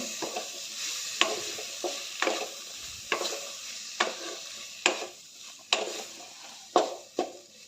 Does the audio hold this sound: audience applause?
no